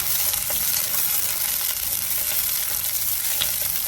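A small onion sautéing in a pan for mushroom thoran, continuous close sizzling with soft stirring scrapes throughout, no talk.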